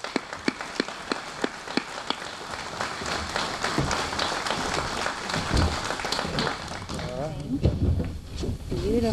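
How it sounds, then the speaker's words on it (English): Audience applause at a fire service open house, a burst of scattered claps in the first seconds that turns into a broader wash, with a voice speaking over it toward the end. "let's give them a round of applause"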